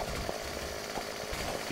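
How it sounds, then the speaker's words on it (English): Old rusty chainsaw in the 7 Days to Die alpha game, a fairly quiet buzzing engine drone with small irregular bursts, running steadily without talk. "Let's get old Rusty the chainsaw out"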